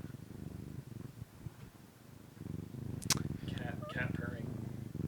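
A person's voice imitates a cat purring with a low, rough, rumbling drone, followed by voices talking.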